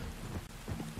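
Steady rain in Red Dead Redemption 2, a dense, even hiss of falling water with low rumbling underneath, continuous and fairly close throughout the short stretch with no voices.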